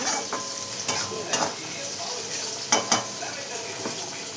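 French bean bhaji frying in a pan, a steady close sizzle broken by several sharp scraping stirs of the spatula against the pan.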